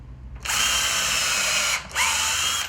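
Power drill boring through reclaimed wood and into the workbench below, two loud close bursts of high whining spin with a brief pause between, no talking.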